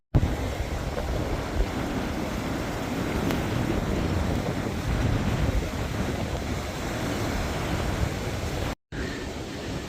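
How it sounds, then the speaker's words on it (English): A cold, wet evening on Blackpool's north shore promenade beside the sea brings constant roaring wind buffeting the microphone along with rain, a dense unbroken noise lasting throughout, with a momentary dropout near the end. "In a very cold and windy and rainy evening."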